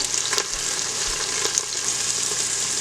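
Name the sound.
pork chop chunks sauteing in an Instant Pot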